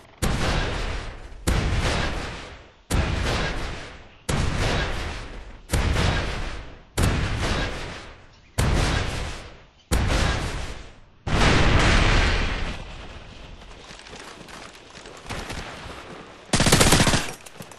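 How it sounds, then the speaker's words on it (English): Gunfire in Modern Warfare 3 on a market map, loud repeated bursts of automatic fire, about eight in a row with brief gaps, then a longer sustained volley and one final burst. "Listen for the sniper's gunfire in the back of the map in the market."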